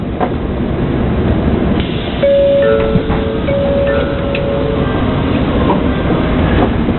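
A bullet train idles at a station with a steady rumble, brief tonal squeals and hums from machinery, and a faint background bustle throughout.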